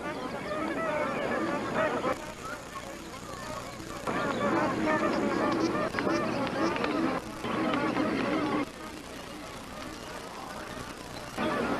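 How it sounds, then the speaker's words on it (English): A large flock of magpie geese honks continuously, a dense chorus of overlapping calls that swells and drops in loudness. "These magpie geese are searching for tender aquatic plants."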